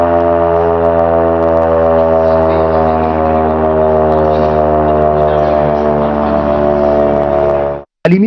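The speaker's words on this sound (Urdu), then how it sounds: "صبح 9 بجے سائرن بجایا گیا" A civil defense siren sounds at 9 am to mark a minute of silence for Kashmir, a loud, sustained, layered wail holding steady for several seconds before cutting off abruptly.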